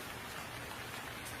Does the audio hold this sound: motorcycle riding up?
no